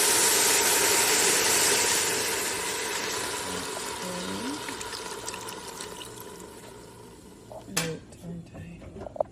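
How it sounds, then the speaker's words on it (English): Vegetable broth poured into a soup pot, a steady rushing splash that fades gradually, followed by a few soft clinks and bumps of kitchenware. "We're going to put the broth in."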